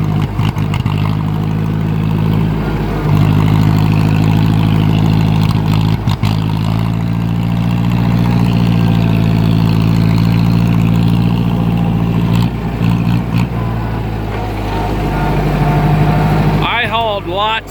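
A 2010 John Deere engine idles steadily with the choke on. Its low, heavy drone is close and continuous, and it sputters unevenly in places, with someone talking over it.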